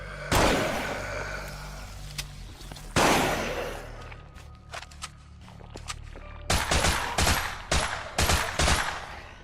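Gunfire in a video game with headshots and aiming down sights, heard as loud close bursts of shots, sharp single reports and rapid volleys with short pauses between them.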